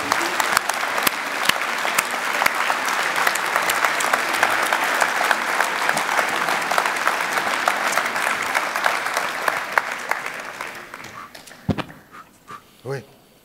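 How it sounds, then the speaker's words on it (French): A large audience at a town New Year's greetings ceremony applauds the Chaud Devant patois revue troupe. The clapping is loud and sustained with scattered sharp claps and dies away near the end, after which a few voices are heard. "on peut encore les applaudir très très fort comme la troupe Chaud Devant"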